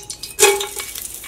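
Whole spices crackle and sizzle as they hit hot ghee for a Manjali chicken biryani, a sharp burst at the start of contact followed by a steady close spitting, with a light clink of a utensil.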